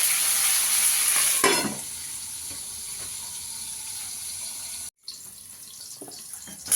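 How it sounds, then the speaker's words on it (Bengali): Cauliflower florets frying in oil in a pan, giving a steady broadband sizzle with scraping or stirring clatter near the start and a brief cutoff before the hiss resumes, no talking. "ফুলকপিগুলোকে একটু লাল করে ভেজে নেবো"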